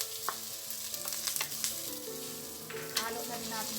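Diced ham and potatoes fry in a pan with onion while being stirred, giving a steady close sizzle with occasional scraping clicks, under light background music.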